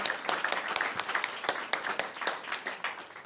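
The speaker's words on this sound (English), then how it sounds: "Let's give her a round of applause." An audience at a talk on ayahuasca tourism gives a round of applause: dense, steady clapping for about three seconds, moderately loud and fairly close, with no talk over it.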